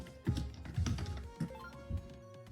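Keys tapped on a keyboard while typing a name into a cute RPG, about four separate bursts of clicks, close and fairly loud with a steady background hum.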